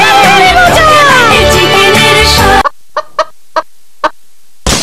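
Chicken clucking and squawking in a chicken noodles advert, loud and busy with overlaid music at first, then a few short, sharp clucks spaced out against silence.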